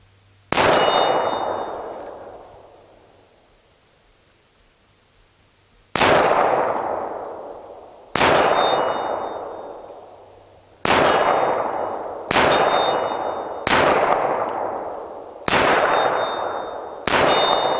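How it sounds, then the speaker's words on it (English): A Glock 17 9mm with a Trijicon RMR red dot fires at a steel target 40 yards away through an elm tree; eight loud, ringing metallic clangs come at irregular intervals, each decaying slowly. "40 yards, Glock 17 9mm with a Trijicon RMR red dot sight through the elm tree."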